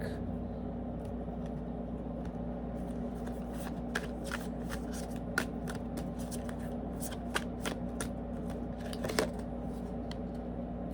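A tarot card deck being shuffled close by, with crisp riffling flutters and soft card slaps in irregular bursts over a low steady background hum.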